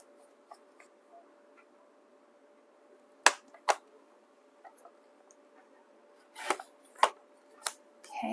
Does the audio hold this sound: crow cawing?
no